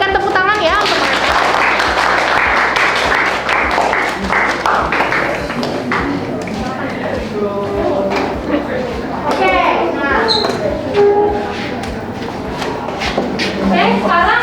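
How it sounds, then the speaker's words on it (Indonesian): Classroom applause for students during a teaching practice session. Clapping is dense at first and fades after a few seconds, followed by shuffling, taps and children's voices. "Nah, berikan tepuk tangan ya untuk mereka."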